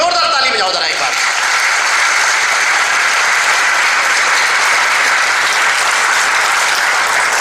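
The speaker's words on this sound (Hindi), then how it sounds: "इनके जोरदार ताली बजाओ जरा एक बार।" A crowd at a community event applauds young self-employed people, with a voice trailing off at the start before loud, sustained clapping fills the rest evenly and close.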